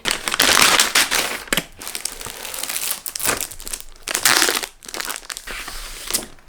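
Thick double-sided Koala paper, heavier than 167-gram sheets, crinkles and crackles loudly as it is handled, in several bursts of rustling and crumpling separated by brief pauses.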